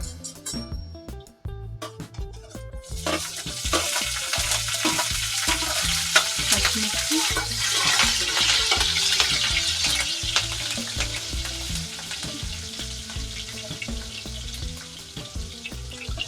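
Cumin seeds and onions sizzle and fry in a pan for pasta, a loud steady hiss with stirring scrapes and clinks after a brief quieter start.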